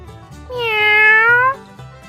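A single cat meow rises loud and clear, a drawn-out tonal cry lasting about a second, set against quiet background music.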